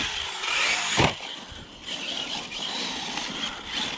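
An RC car drives with a whirring motor and a clunky, rattly body shell, with a sharp knock partway through, fairly loud and continuous, no talk.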